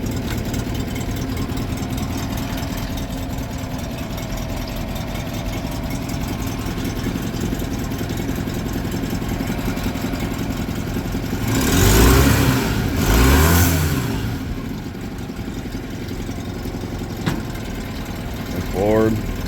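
A mid-1980s Honda 7.5hp short-shaft four-stroke outboard idles steadily in a test tank, a continuous mid-pitched engine drone with two brief rises in revs partway through, and some faint talk in the background.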